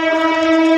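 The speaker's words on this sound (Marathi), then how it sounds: "ट्रेनचा पण आवाज खूपच येतो" A train passing near Parel station sounds a loud, steady horn blast, rich and tonal and close at hand. The blast is heard alone and lasts under a second.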